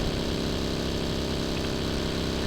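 A boat engine in the mobile battle royale game BGMI drones steadily and loudly throughout, a continuous motor hum with no talk over it.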